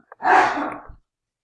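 A single sneeze, short and close, with a sharp breathy burst fading out in under a second.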